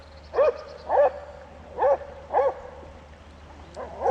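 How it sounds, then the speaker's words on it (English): A dog barks five times in short, evenly spaced bursts at a moderate distance by a river, each bark clear and yappy, over a faint low background hum. "The dog there is getting crazy"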